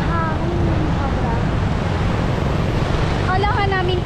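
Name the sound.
strong wind at beach resort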